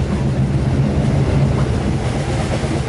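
A crowded Malayan Railway passenger train on the east coast line runs along the rails with a loud, steady low rumble and faint rhythmic rattling heard from inside the carriage.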